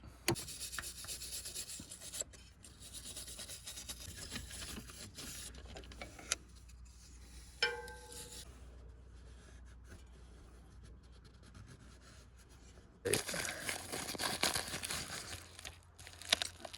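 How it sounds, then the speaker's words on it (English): A paint scraper and wire brush scrub the surface of a Ford F250 6.9 IDI diesel engine block, giving a continuous rough rasping and rubbing that pauses briefly midway, then resumes louder near the end. "hit it a couple more times with the scraper. It's this paint scraper here. And I'll probably hit it with the wire brush"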